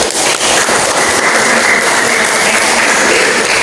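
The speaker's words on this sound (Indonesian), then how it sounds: "Kita beri tepuk tangan dulu" Dense, loud applause fills a chapel during a Catholic Mass receiving new novices, sustained and even throughout with no voices over it.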